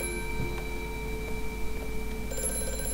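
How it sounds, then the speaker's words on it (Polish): Old telephone ringing in Amnesia: A Machine for Pigs, a steady shrill bell tone with sustained harmonics over a low background hum, a brief new ring starting near the end. "Telefonik, tak?"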